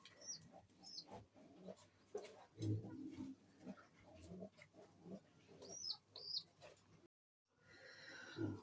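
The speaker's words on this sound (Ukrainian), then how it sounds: "Дивіться, як просить, як голубиня просить." Pigeons at a bird enclosure, with a young dove begging for food beak to beak, give repeated high squeaky begging calls and soft cooing, fairly close and moderately loud against a quiet background.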